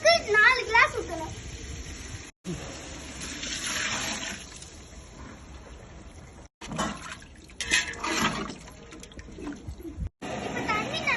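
Water is poured and splashes into a cooking pot for a few seconds, followed by quieter trickling, with a person speaking and a voice in the background.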